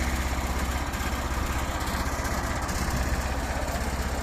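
A wood chipper's engine runs steadily at close range, a continuous rough mechanical drone with a throbbing low pulse and no breaks, while the operator opens the throttle.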